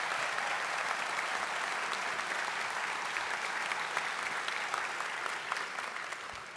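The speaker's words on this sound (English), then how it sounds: "Please give them a round of applause." Audience applause at a 2024 high school commencement ceremony, a steady rush of many hands clapping with crisp individual claps poking through, fairly faint and distant, sustained throughout.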